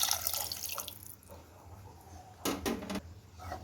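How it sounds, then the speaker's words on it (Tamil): Water sloshes from a bowl into a pot of mutton curry, a brief close splash and pour after a quiet stretch of faint clatter, with no talk. "பாதி தண்ணி ஊற்றிக்கிறேன் பவுல்லேருந்து."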